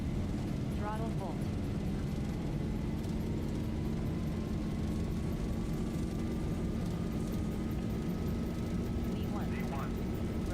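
Jet airliner engines spooling to full takeoff thrust in a flight simulator running the Zibomod aircraft on a Port Elizabeth to Johannesburg flight: a constant, dense roar with a faint rising whine, while a voice talks over it.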